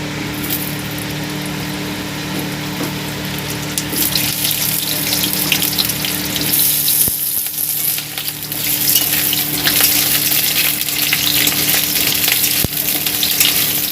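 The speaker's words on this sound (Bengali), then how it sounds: "কড়ায় অল্প একটু তেল দিয়ে দিয়েছি এবার আলুগুলো হচ্ছে গিয়ে একটু নেড়ে চেড়ে নেব" Potato pieces fry in a little oil in a wok, a steady broadband sizzle with scraping and stirring throughout, loud and close with no talk.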